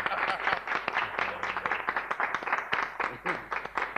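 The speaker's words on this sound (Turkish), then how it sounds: "bir alkış alıyoruz Nejat Uygur" Audience applause for Nejat Uygur on a Turkish talk show stage, dense clapping with bursts of cheering across the whole stretch, voices mixed into the crowd noise.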